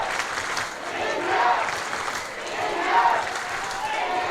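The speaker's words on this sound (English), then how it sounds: "you can hear from the crowd," A stadium crowd at a women's field hockey gold medal match swells in cheering and applause, rising and falling in waves at moderate distance beneath a commentator talking.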